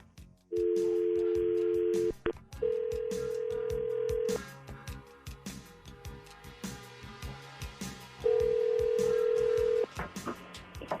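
A telephone call is placed: a few steady dial and ringback tones sound in separate bursts, loud and clear, with faint background noise between them and no talk.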